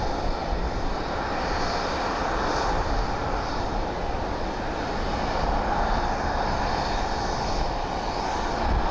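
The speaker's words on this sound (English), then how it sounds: "Vista Jet Global touching down." A Vista Jet Global business jet touching down at Columbus Glenn airport, heard as a steady, broad engine roar that holds evenly throughout with no talk.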